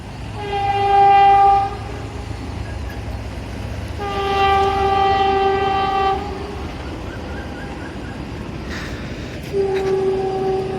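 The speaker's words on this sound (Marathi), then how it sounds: "हा ट्रेनचा आवाज. ही बघा ट्रेन चालली आहे." A train in the Konkan near Kankavli rumbles past steadily while its horn blares in three long blasts, loud and nearby, with the rolling noise of the cars continuing underneath.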